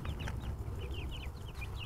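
Young chicks in a small coop give a quick run of soft high peeps and clucks over a low background rumble, close by and brief.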